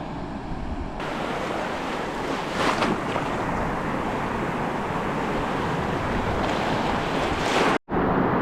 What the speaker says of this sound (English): there's quite big waves out there